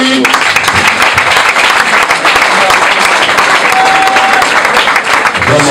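Sustained applause from a student audience at the University of Kinshasa fills the whole stretch, dense and steady with crowd noise, loud and close, and a voice rises briefly near the end.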